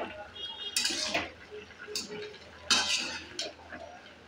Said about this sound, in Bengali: এবার আমি আবার একটু নাড়াচাড়া করব।